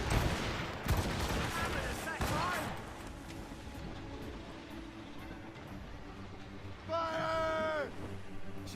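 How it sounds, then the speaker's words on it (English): Naval cannon fire during a ship battle at a fort in Assassin's Creed Rogue: dense booming blasts and crackling gunfire pack the first few seconds, then fade to rumble beneath talk, with a brief sharp whistle-like burst near the end. "Cannon ready. Fire!"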